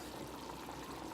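Hot water from boiled potatoes pours out as they drain in a kitchen, a faint, steady rushing splash that runs evenly for a moment with no talk.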